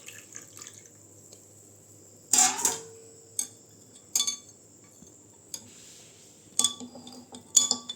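A spoon stirs badam pisin juice with lemon in a glass, giving sparse sharp clinks against the glass, several isolated taps spread over a quiet background with no speech.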